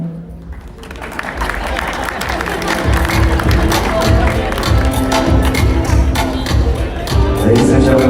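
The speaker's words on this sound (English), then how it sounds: "huge round of applause for our bride's parents" A wedding reception crowd claps and cheers loudly and continuously, with scattered whoops over steady applause that swells near the end.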